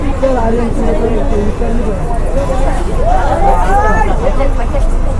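A large crowd of college students makes a loud, dense babble of overlapping voices, with traffic rumbling underneath throughout.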